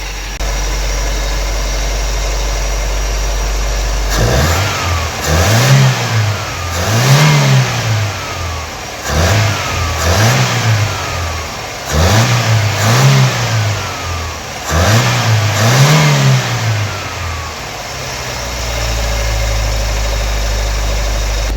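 An abandoned carburetted Toyota engine running without its cone air filter, idling low then revving in five or six repeated swells that rise and fall, loud and close with no talking.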